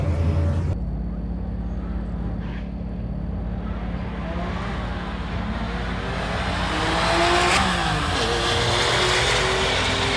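Ford drift car engine revving hard nearby, a loud raspy roar that climbs in pitch and swells toward the end, starting abruptly after a sharp cut.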